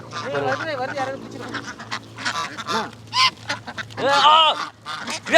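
Ducks quack loudly and repeatedly close by, harsh overlapping calls in irregular bursts, with a person talking among them as the ducks bite at a hand.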